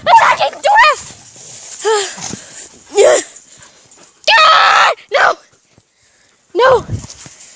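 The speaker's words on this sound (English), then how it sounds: "We got wrestle dogs attacking the ref!" Two pet dogs wrestle and fight at home, with loud, sharp bursts of barks, yelps and whining cries coming in quick, uneven bouts up close, broken by short pauses.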